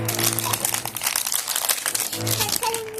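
Plastic bag crinkling and rustling as a unicorn toy is unwrapped, continuous close crackling throughout, with a voice faintly underneath.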